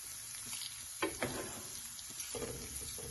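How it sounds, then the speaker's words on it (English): Diced Spam fries in oil, a soft, close sizzle punctuated by a few scraping and tossing knocks as the pieces are moved around the pan. "Get all the diced Spammies in there. And I'm going to toss that around a little bit."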